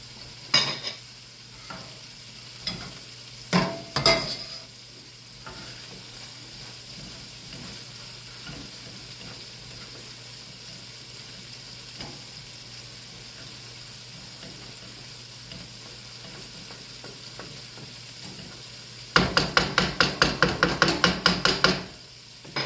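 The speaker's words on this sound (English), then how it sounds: "So I'm gonna cook these peppers and onions until they soften up a little bit." Peppers and onions sizzling steadily in a pan, punctuated by sharp knocks of a utensil early on and a fast burst of stirring clatter near the end.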